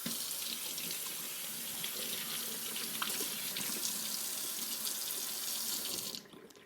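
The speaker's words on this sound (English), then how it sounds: "now I'm just going to grab my pieces and rinse them under water just to get rid of all the little seeds" Bell pepper pieces rinsed under a running kitchen tap, a steady close hiss of splashing water that runs continuously before cutting off abruptly near the end.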